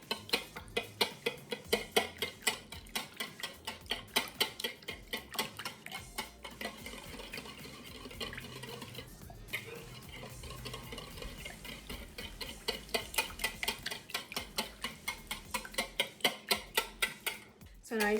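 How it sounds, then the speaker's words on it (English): Wet ingredients for red velvet cupcakes are whisked in a bowl, giving rapid rhythmic clinks and scrapes in bursts with a short pause midway, close and fairly quiet. "And you whisk it."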